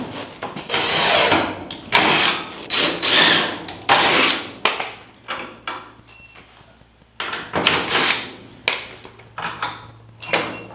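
Power drill driving screws into wood 2x4s while building a mobile chicken coop, in a series of loud whirring bursts separated by short pauses, close up.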